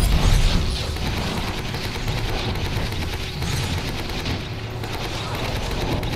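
Gunfire in the video game Army of Two: The Devil's Cartel: dense, continuous automatic bursts with heavy low thumps, loud and close, no talk.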